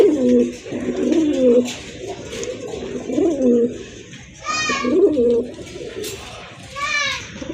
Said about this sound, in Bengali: আরেক জোড়া কবুতর বোম্বাই কবুতর